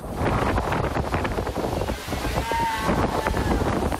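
Rough, wind-whipped sea off the rocky coast of Kythira, with a steady broadband roar of surf and gusting wind across the microphone, continuous and fairly loud throughout, with faint voices mixed in.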